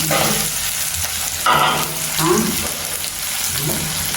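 Onions sauté in a pan in a Jaffna home kitchen, a close sizzle broken by bursts of stirring and scraping from a utensil.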